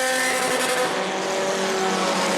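Race cars lap a short oval at New Smyrna in a Bomber 'A' feature, their engines roaring loudly as they pass, a steady dense drone with a faint tyre squeal, no talk.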